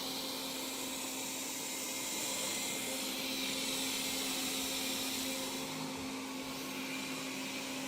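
A robot vacuum cleaner runs in turbo mode continuously with a loud, steady whirring hum and high-pitched whine, close by, with no talking.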